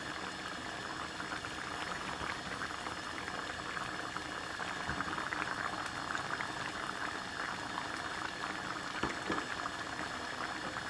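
A pot of Sylheti tomato fish curry bubbles over high heat, a continuous, dense burble of popping bubbles close by at moderate level, steady throughout with no voices.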